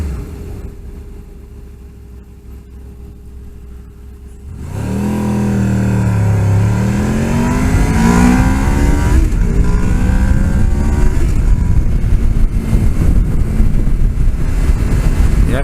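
A hot-running V4 motorcycle pulls away on a long straight road in Sacramento County. After a quiet idle it rises into a loud, steady engine drone with climbing pitch through the gears, close and continuous with no talk.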